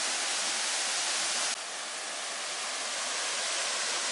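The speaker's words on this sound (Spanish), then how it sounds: "Allá cae la agua nacida" Spring water pouring from a rock into a deep pool beneath a waterfall, a loud, steady rushing hiss that dips slightly midway but keeps flowing unbroken.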